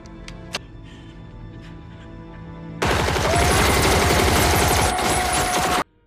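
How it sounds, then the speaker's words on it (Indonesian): Gunfire erupts in a film shootout with gangsters: after a quiet stretch with a couple of isolated sharp shots, a sudden loud, dense burst of rapid automatic fire rages for about three seconds, then cuts off abruptly. "Teman-teman Markus berhasil lebih dulu menembak anggota gangster itu"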